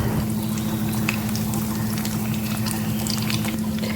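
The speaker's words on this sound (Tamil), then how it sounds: "எண்ணெய் நல்லா காஞ்சோன்னே கொஞ்சம் மீடியம் ஹீட்டில் வச்சு நம்ம போடலாம்" Egg sticks fry in hot oil over medium heat, giving a continuous close sizzle and bubbling that stays steady and even, with a faint low hum underneath and no talking.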